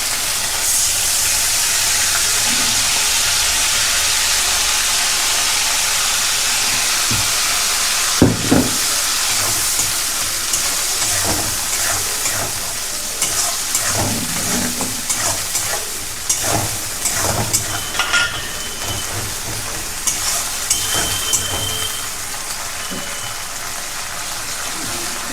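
Spice paste frying with onions in a pan, a loud, steady sizzle at first that settles into softer crackling and spitting with occasional stirring clinks and scrapes, close up.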